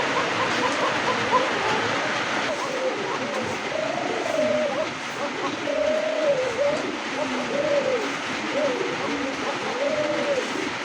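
White Arabian coca pigeons coo repeatedly in rolling, rhythmic calls at close range, with voices talking and steady background noise underneath.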